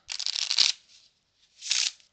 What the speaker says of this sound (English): Let's take a look at how the shuffle does.